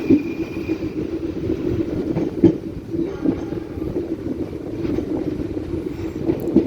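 A KA Gumarang business-class passenger train rumbles steadily along the tracks near Semarang, Indonesia, heard from inside a carriage, a continuous low drone with faint rhythmic rattles and clicks.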